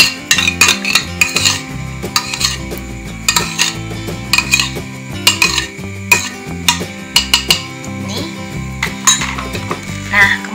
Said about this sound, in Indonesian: Kemudian kita aduk sampai benar-benar tercampur rata.